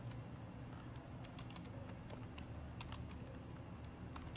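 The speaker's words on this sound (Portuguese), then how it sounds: "Vamos digitar aqui a palavra informática." A computer keyboard is typed on while a word is entered in an Excel spreadsheet. Soft, scattered key clicks sound close but faint over a steady low background hum, with no talking.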